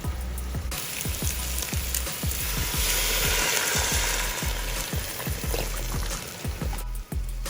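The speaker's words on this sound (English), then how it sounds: "place them into the same pot as the charred onions" Parboiled beef bones dropped into a pot with charred onions for pho crackle and sizzle loudly, a dense spitting fry with rapid popping, close and continuous throughout, no voices.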